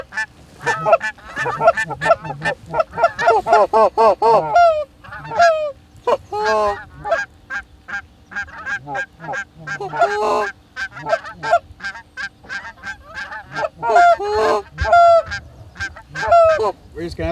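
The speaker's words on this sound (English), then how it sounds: "These geese decided to land out of range of our setup, so Peyton bumped them" A flock of geese honks loudly and close by in a waterfowl hunting setting, with dense overlapping calls in bursts that thin into scattered single honks and then build again, with no talk.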